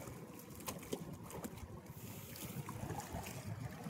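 Boats move across open water, heard as a faint, continuous wash of wind and water noise with rumbling motor-like texture and wind buffeting the microphone; no voices.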